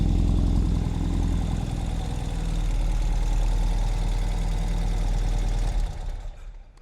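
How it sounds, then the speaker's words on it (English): A 2020 Ural Gear Up motorcycle's exhaust idles with a low, steady rumble at close range, then cuts off abruptly near the end. "Nice sound from the exhaust."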